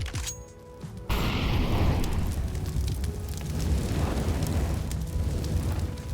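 An incendiary grenade in the CS:GO map Overpass bursts and burns, a sudden whoosh after a brief quiet start that settles into a steady, loud roaring crackle of fire lasting several seconds, with no talk.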